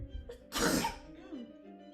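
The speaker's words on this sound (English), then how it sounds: "I'm gonna sneeze, sorry." A single sharp, breathy sneeze bursts out close by, preceded by a short intake of breath and followed by a faint exhale.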